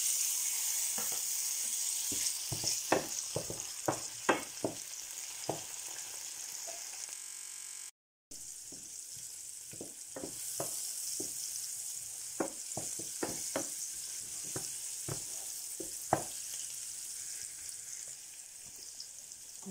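Shrimps sizzling in hot oil in a pan for a spinach sauce, a continuous close hiss broken by repeated scraping stirs and clinks, with a brief gap midway and no talk.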